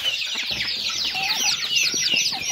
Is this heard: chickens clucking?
yes